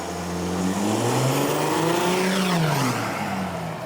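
Custom exhaust on a Volkswagen Touareg 7P revving hard, loud and close, engine pitch climbing through a long rev then falling back, with no talking.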